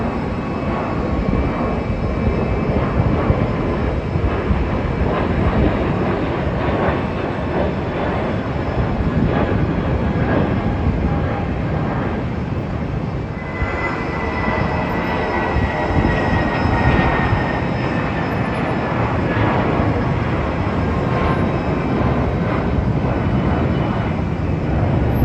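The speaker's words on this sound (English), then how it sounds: "we have Turkish Airlines A321neo. Surprise, surprise, that is heading off to Istanbul." A Turkish Airlines Airbus A321neo departs London Heathrow with a loud, sustained engine roar that holds steady for the whole stretch and swells slightly partway through.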